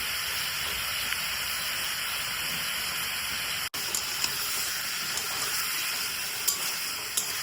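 Chicken pieces with yogurt and salt being slowly fried in a pan for a Bengali chicken kosha, giving a steady, close hiss and sizzle that runs throughout, with a brief dropout midway.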